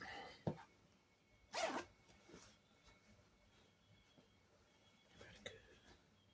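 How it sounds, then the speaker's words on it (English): A broken zipper is unzipped during a sewing repair, giving one short, sharp rasp near the middle, a fainter tick before it and a softer pull near the end, all close up in a quiet room with no talk. "So unzip it."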